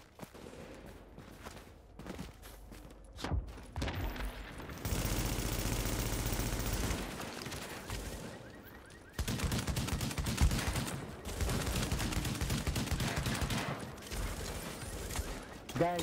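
Gunfire rings out in The Division's Dark Zone, with bursts of automatic shooting and clattering mechanisms under intermittent talking, growing loud and dense mid-clip.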